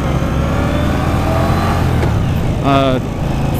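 A Victory Octane motorcycle of about 104 horsepower accelerates on a road ride, a steady close engine drone that climbs in a clear rising rev toward the end of the clip.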